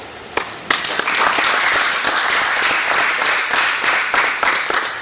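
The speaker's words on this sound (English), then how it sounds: "I think that deserves a better applause." Sustained, full applause from an audience at a sports ministry address, steady and loud throughout with a few sharper claps standing out near the start.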